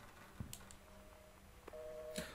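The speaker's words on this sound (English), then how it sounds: "Oh, it's a dial tone" A faint, steady telephone dial tone in the video game Gone Home hums through a quiet background, interrupted by a couple of soft clicks and taps nearby.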